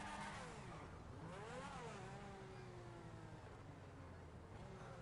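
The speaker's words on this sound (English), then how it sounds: "Listen to the engine. Can you hear my engine?" A car engine revs in the video game GTA V, a steady droning whine with rising and falling pitch sweeps that rises and settles again, faint overall and heard without talk.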